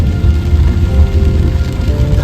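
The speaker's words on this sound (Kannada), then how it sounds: "ಈಗ ಸಾಧಾರಣ ಮಳೆ ಬರಲಿಕ್ಕೆ ಶುರುವಾಗಿದೆ" Steady rain pours over a forest near Kunchikal Falls in the Udupi region, a dense continuous hiss with low rumbling texture, loud and close throughout without any talk.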